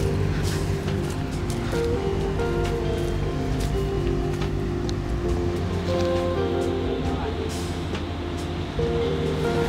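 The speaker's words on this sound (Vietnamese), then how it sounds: "Đã bắt đầu nghe tiếng sóng vỗ." Ocean waves crashing on a rocky shore near Nha Trang, Vietnam, as a loud continuous roar of surf, broad and steady with no pauses.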